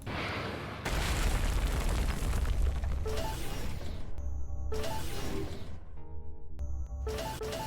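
A target blows up in the space game Everspace 2, a loud booming blast with a long rumbling tail, followed by sharp whooshes and pops and a few ringing mechanical tones.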